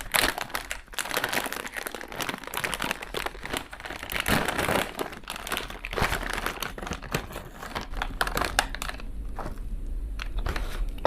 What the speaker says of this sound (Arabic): تعال نفتح كده الكيس ونشوف.